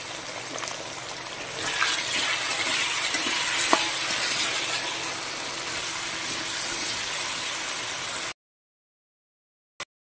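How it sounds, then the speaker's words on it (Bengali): Potatoes frying in a pan with salt and turmeric, a continuous bright close sizzle with faint stirring clatter that stops abruptly near the end, followed by silence and one brief click. "প্রথমে আলুগুলোকে একটু ভালো করে ভেজে নেব।"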